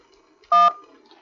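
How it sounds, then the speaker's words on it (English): A single short electronic phone ring tone, a clear steady beep of about a fifth of a second, marks an incoming call on a live call-in show and stands alone in quiet surroundings. "Oh, I got a phone call."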